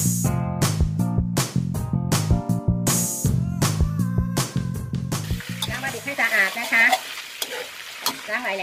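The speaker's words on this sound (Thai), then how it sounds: "ก็ผัดให้โหระพาได้รับความร้อนก่อน" Basil is stir-fried in a hot pan for a spicy catfish and fresh chili dish, giving a steady close sizzle with scraping stirs, after a stretch of louder tonal sound at the start.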